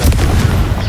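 A Confringo fire-spell blast in Hogwarts Legacy, a loud, close booming explosion with a sharp initial burst that rumbles and crackles for under a second.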